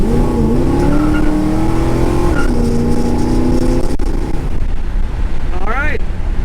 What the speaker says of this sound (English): that is a ride around the block in my 69 Charger RT